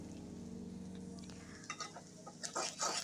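Onions frying in a pan with ginger and garlic just added, a low steady sizzle with light stirring and scraping clatter toward the end, close and fairly quiet with no voices.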